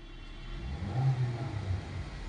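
The engine of a Honda Amaze car idles with a steady low hum from inside the cabin, swelling slightly once as if revving gently. No voices.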